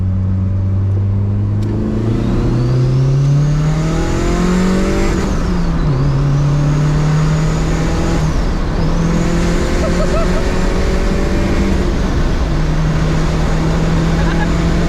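A loud turbocharged 16-valve engine in a Golf 3 GTI revs hard, pitch climbing and dropping through gear changes, with a turbo whistle and someone talking over it.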